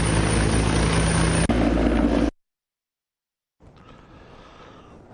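A T-129 attack helicopter flies at a public display, its loud rotor and turbine roar filling the first two seconds before an abrupt cut to silence, then a fainter distant whir returns.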